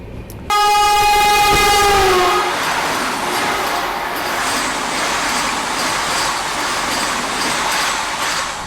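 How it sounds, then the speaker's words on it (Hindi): A Vande Bharat Express train pulls out of a railway station at night. A loud multi-tone horn blast opens the sound, then settles into a continuous heavy rumble of moving rail cars close by. "और यहाँ से किसी ट्रेन का डिपार्चर हुआ है"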